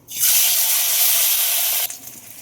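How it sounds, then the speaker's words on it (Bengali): Small morola fish dropped into hot oil, giving a sudden loud close hiss that holds steady for almost two seconds before dying back to a softer crackle. "তেল গরম হয়ে গেছে আর মাছ আমি ভাজার জন্য ছেড়ে দেবো"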